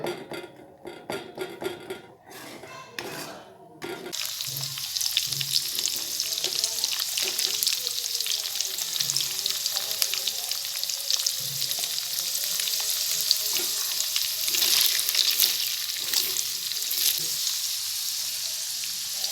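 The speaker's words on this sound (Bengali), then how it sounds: "দুশো গ্রাম ঘিয়ে এই রসুনগুলোকে ভালো করে ভাজতে হবে" Garlic frying in two hundred grams of ghee, a loud continuous close sizzle that swells after a few opening clatters and stirs, holding steady throughout.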